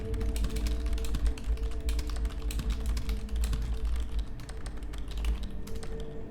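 Rapid, continuous keyboard typing in the video game Dead Letter Dept., crisp clicking keystrokes, close and steady throughout, with a low hum underneath.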